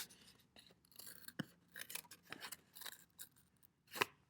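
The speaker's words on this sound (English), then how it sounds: "I feel like getting rid of that gives me more access to get in there with the scissors and to continue cutting." Scissors snip through paper or card while a rocket part is cut out, a run of quiet, irregular close-up cuts with a sharper, louder snip near the end; no one speaks.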